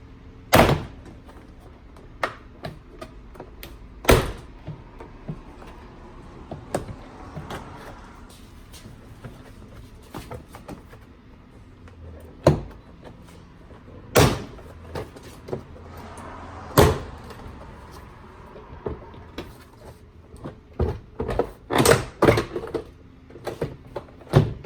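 A door panel on a Toyota C-HR is pried off, giving repeated sharp plastic clip pops and cracks spaced irregularly and then bunching together near the end, close up and without talking.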